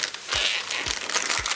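Parchment lining peeled away from a slab of no-bake two-ingredient strawberry fudge, a close crinkling, papery rustle with a few soft crackles repeating over a second and a half.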